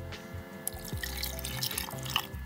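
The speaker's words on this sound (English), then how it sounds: "you're gonna pour it over top of your pitcher filled with ice" Espresso pours over ice in a pitcher, a soft thin trickle with faint clinks and drips, quiet and close with low background hum.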